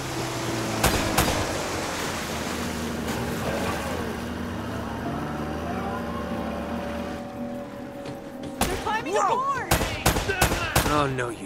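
Gunfire in Uncharted: Drake's Fortune: a few sharp shots early on, then a rapid cluster of loud cracks near the end, over a steady engine-like drone.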